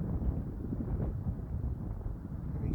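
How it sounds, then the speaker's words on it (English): Gusting high wind buffets a microphone in a wide open area with no trees, a low rumbling roar that swells and eases continuously throughout. "All of a sudden you get that gust of wind."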